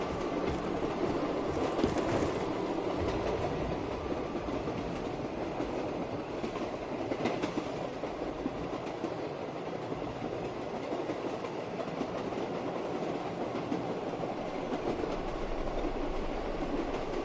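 Onboard a moving train, a loud, steady rumble of wheels and carriage fills the space, with rhythmic clacking over the rails and occasional squeals, with no voices.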